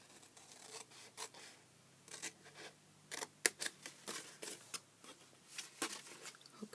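Scissors snipping through paper craft pieces for an Easter flip-top box, a series of quiet, close, irregular cuts with short pauses and light rustling between them.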